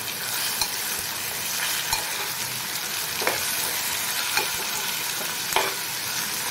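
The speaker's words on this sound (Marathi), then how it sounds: "पूर्ण ह्या तेलामध्ये मी भाजून घेणार आहे।" Whole prawns coated in turmeric and salt fry in hot oil in a pan for a Maharashtrian prawn masala curry, giving a steady close sizzle with a few soft clinks of stirring and no talk.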